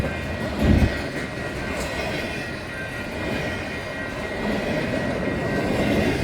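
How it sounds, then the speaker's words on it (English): A freight train with a distributed power unit pulls out, rumbling steadily nearby with deep rolling noise and faint rail clatter, a brief thump early on and the roar building gradually. "I saw the DPU running, and then all of a sudden the train took off."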